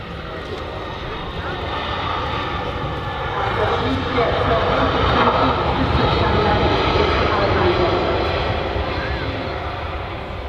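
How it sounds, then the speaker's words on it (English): An EasyJet airliner on approach to Manchester Airport gives a broad, loud engine roar that swells and fades gradually, with people talking over it. "Got the EasyJet coming in now."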